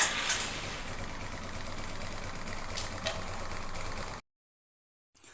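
A Suzuki Access scooter engine runs at a steady, close idle for about four seconds after starting, with a low continuous hum, before the sound cuts off abruptly into silence.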